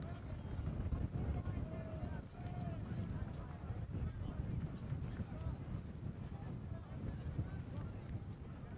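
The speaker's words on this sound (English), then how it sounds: "Significant gusts of wind at the moment." Rough, low buffeting wind gusts rumble steadily across the microphone at an outdoor ultimate frisbee match, with faint distant voices and thuds underneath.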